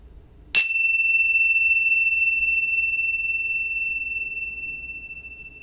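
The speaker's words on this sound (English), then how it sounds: "Listen for the bell." A single clear bell strike rings out, then a long pure tone slowly fades while the room stays quiet.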